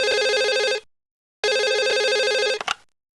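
A telephone rings on a radio call-in show, two long electronic ring bursts separated by a short silence, the second cut off abruptly.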